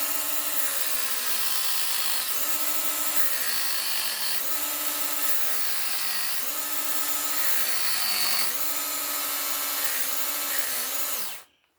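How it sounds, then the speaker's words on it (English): A knife sharpener used as an electric file whines steadily against a large knife blade made from wall tile, its pitch dipping and rising in repeated strokes for about eleven seconds before cutting off abruptly. "I have a knife sharpener that I use as an electric file"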